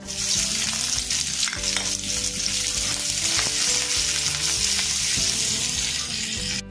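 Loud, steady sizzling of chopped onion and garlic frying in hot oil, with occasional stirring clatter, close up and continuous throughout.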